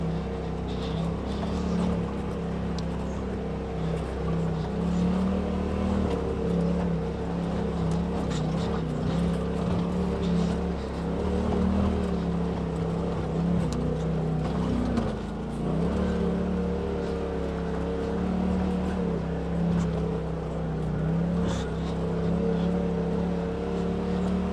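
Polaris RZR and Ranger off-road vehicles rumble along a dirt trail, a sustained engine drone with swelling and easing revs, moderately loud and steady for the whole stretch, no talking.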